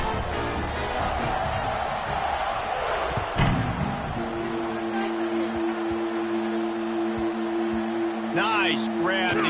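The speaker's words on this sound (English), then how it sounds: "this crowd is buzzing after that last score" A college football stadium crowd buzzes steadily after a score, a broad continuous roar with a commentator talking over it throughout.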